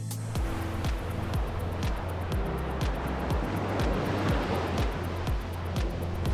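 Surf rolls onto the beach at Treasure Island, Florida, with steady waves breaking and washing ashore in a continuous roar, heard from nearby with no voices.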